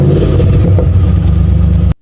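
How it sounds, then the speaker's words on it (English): A car engine revs with a loud, close, steady rumble that holds for about two seconds before cutting off abruptly. "Car."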